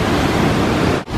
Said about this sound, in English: Here's the waterfall part of it.